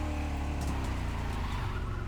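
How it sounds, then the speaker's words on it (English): A widebody Chevelle with a slow-shifting four-speed gearbox roars continuously in The Crew Motorfest, a loud, steady engine drone with no clear pause for a gear change. "It changes gears so incredibly slowly."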